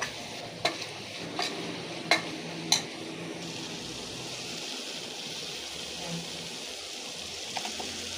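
Vegetable biryani with carrots, beans, rice and masala being stirred in a pot. A soft continuous sizzle runs throughout, broken by a few sharp spoon knocks early on, close and with no talking.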